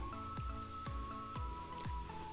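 Jackfruit biryani masala being stirred and mixed gives soft, wet squelching strokes about twice a second, faint and regular, over a low steady hum.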